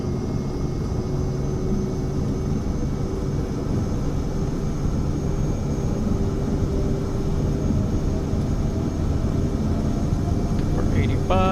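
Aircraft engines roar steadily through a takeoff run in Microsoft Flight Simulator 2024, a dense continuous drone with a faint rising tone near the end and no talk over it.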